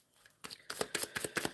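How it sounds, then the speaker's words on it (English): Tarot cards being shuffled by hand for a weekly reading, heard as a quiet rustle followed by a series of about five rhythmic, crisp riffling bursts, close and alone. "I am shuffling for the overall energy for this reading to start the week."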